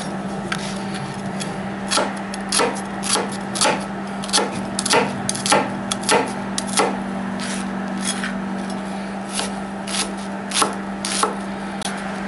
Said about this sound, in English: So just get the ends off, stand them up, cut them in half, and just peel off the outside layer.